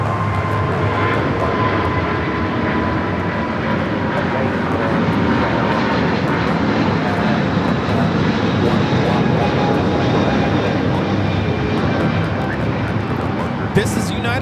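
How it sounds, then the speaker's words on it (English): A Volaris Airbus A320 arriving at LAX makes a continuous, dense engine roar that holds steady for the whole stretch, with a faint speaking voice in the background. "That is Volaris 7848 coming in from Oaxaca on the A320"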